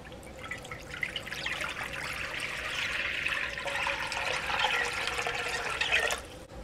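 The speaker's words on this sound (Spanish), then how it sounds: "Aquí le voy a poner agua." Water pours into a cooking pot set on the stove for pork spine broth, a steady, fairly loud trickling stream lasting several seconds before stopping abruptly near the end.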